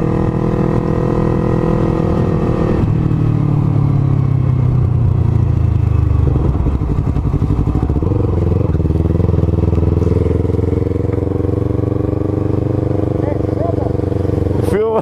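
Honda CB500F, Yamaha MT-03 and Kawasaki Ninja motorcycle engines roar loudly and continuously in a drag race, pitch climbing as they rev and accelerate, with a steady rumbling drone throughout.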